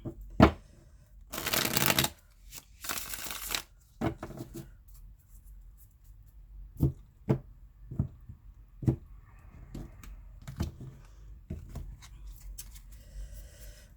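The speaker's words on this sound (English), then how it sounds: "Last shuffle." Two long riffles of tarot cards being shuffled, followed by a series of soft taps and slaps as cards are set down, close up and quiet otherwise.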